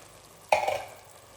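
Canned mushrooms stirred into a tuna pasta sauce in a pan: one short, close burst of wet scraping and sizzling that fades within about half a second, with quiet surroundings and no talking.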